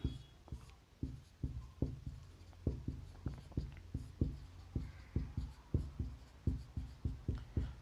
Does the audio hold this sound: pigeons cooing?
no